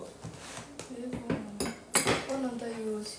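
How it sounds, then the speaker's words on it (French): Knife chopping okra for a Guinean okra sauce, several quick irregular knocks and clinks on a board with faint metallic ringing, quiet and close, with a person talking in the background. "je suis juste en train de découper mon gombo rapidement"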